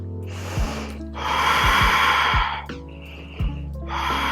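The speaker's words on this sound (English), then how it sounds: "Take your three ujjayi breaths in this warrior one." Loud, hissing yogic ujjayi breaths taken in warrior one during a power vinyasa flow, with long rushing inhales and exhales alternating, punctuated by short low thumps.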